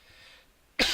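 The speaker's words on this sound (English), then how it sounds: "I'm still probably going to cough a little bit" A single loud cough bursts out close to the microphone near the end, after a quiet stretch of faint background hiss. A gamer with a lingering throat problem produces it while playing World of Tanks Generals.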